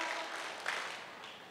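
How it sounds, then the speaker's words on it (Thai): An audience at a traditional music concert claps briefly, a short burst of scattered applause that stays quiet and distant. "ปรบมือพร้อมกัน3ครั้งครับ"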